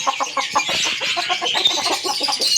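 Several chickens clucking close by, a busy, continuous chatter of short clucks and squawks with no pauses.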